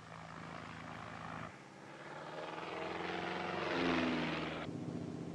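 A light aircraft takes off from pack ice for a seal-spotting flight, its engine droning steadily and swelling louder before a change in pitch, with no talking.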